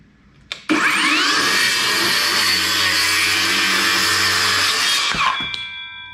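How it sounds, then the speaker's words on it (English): SCANS S721-1 cordless circular saw cutting through a scrap 2x4 clamped to a bench: a click, then a loud close motor whine straining through the wood for about four seconds before spinning down. "let's see how this does cutting through 2x material"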